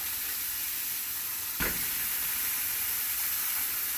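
A Juicy Lucy burger sizzles in a hot pan, a steady close hiss that carries through the whole stretch, with one brief sharper burst partway through.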